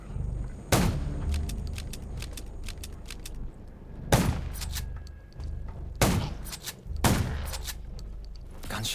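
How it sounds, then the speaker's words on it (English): Gunfire in the zombie survival video game Undawn: loud sharp shots and short bursts ring out at irregular intervals over a rumbling, crackling game soundscape, with no voices. "Gunshots will attract."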